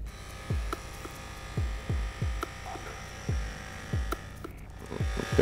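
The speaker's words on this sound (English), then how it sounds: "Now I'm gonna use this machine that actually helps push that DNA into my skin cells." A handheld skin device used for a DNA biohacking treatment gives a steady electric buzz, broken by repeated low thumps and clicks at an irregular pace, close up and with no speech.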